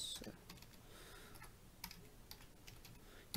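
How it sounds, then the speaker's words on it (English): Slow, sparse one-finger key taps on a computer keyboard while checking a Sun Oracle SPARC T4-2 server, faint scattered clicks over a steady hum of background noise. "yeah, I'm typing with one finger"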